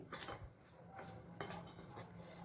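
A spoon scrapes and clinks against a bowl while fine semolina and bread crumbs are stirred together, making light, irregular metallic taps and scrapes with no talking.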